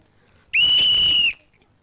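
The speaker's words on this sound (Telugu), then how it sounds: "ఓకే, ఇంకొంచెం ట్రై చేద్దాం. విజిల్ వేయండి." A single whistle blast sounds during a Telugu TV game show, a shrill, steady tone lasting under a second that stands alone against near silence.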